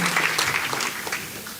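Applause from a church congregation praising Jesus Christ, a dense, steady clatter of many hands clapping together, fairly loud and continuous throughout.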